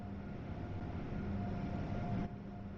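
An Amtrak Acela train, with power cars of 6,200 HP at each end and six passenger cars, runs in Train Sim World 3 as a steady, faint rumbling hum with a tonal whine, easing off slightly near the end.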